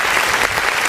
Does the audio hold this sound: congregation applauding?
yes